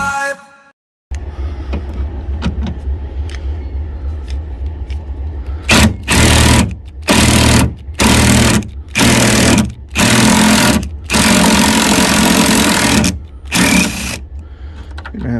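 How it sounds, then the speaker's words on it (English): A cordless drill with a weakening battery removes bolts on a Nissan Juke during a hood release cable repair. It gives repeated loud whirring bursts of a second or so, separated by short pauses, after a quieter start. "I'm gonna have to replace this battery in this drill, but for now it'll do."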